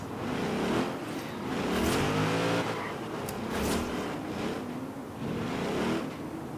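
Subaru BRZ drift build in the video game Forza Horizon 3, its engine repeatedly revving up and easing off in swells, with blow-off valve hisses between pulls, heard alone without talk.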